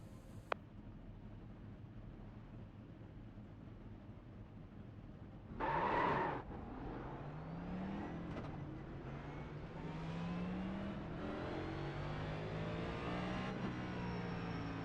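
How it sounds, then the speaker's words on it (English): NASCAR stock cars rolling behind the pace car at Phoenix Raceway in iRacing, a steady engine drone that surges with a brief burst of revving, then layered engine tones rising and falling as the field moves off, no talk. "Pace car rolling."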